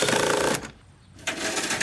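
A power tool runs loud and buzzing while fastening a steel basement door side plate against a house, with two sustained bursts separated by a short pause.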